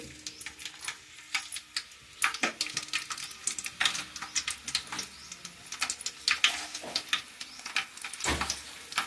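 Garlic frying in oil in a pan for a fenugreek-leaf potato fry, with intermittent crackling sizzle bursts and clinks of a spoon stirring against the pan, close and alone without talk.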